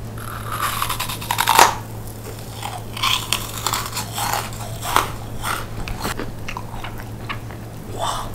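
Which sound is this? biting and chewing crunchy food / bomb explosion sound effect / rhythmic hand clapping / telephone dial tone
biting and chewing crunchy food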